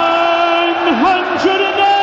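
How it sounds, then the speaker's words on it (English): A darts crowd at a European Darts Matchplay match sings and chants together in a loud, sustained, tuneful drone, with pitch swooping up and down between phrases. "crowd are loving this now"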